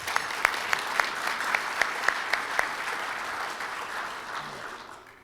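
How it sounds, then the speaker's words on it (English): Warm applause from a Rotary meeting audience honoring Melinda Kelly, a steady wash of many hands clapping with a few sharp individual claps standing out, fading gradually toward the end. "Could we please have a round of applause for Melinda Kelly?"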